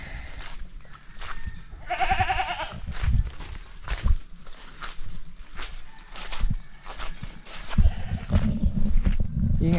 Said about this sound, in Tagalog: Ingay itong kambing ko.